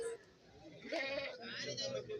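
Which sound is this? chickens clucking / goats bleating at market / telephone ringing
goats bleating at market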